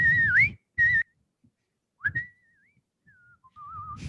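A person whistles a melody from a song alone, in short bright phrases with pauses, sliding between notes and ending on a wavering held tone, with brief breathy gaps.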